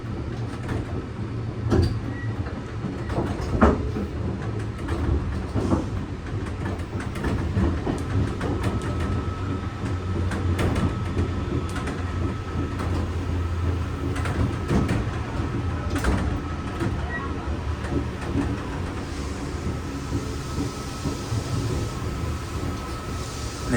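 Sydney Comeng V Set electric train leaving Strathfield station, heard from on board: a steady low rumble with rattles and clunks, and a faint motor whine building as it pulls away, with no talking.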